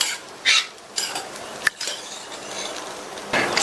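Upma with chopped coriander leaves is stirred in a cooking pan, giving a few scraping, clinking strokes of a utensil against the metal, separated by short quiet gaps.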